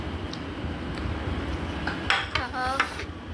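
Shrimp frying in a home kitchen pan, a low steady sizzle under clinking utensils and a few brief metallic scrapes near the end, close and moderately loud.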